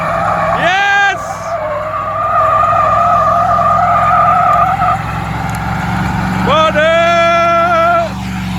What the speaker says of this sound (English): Automatic, will the gearbox explode or will it do a massive burnout?